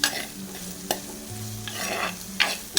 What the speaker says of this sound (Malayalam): അതും കൂടി ചേർത്ത് നല്ലോണം വഴറ്റിയെടുക്കണം.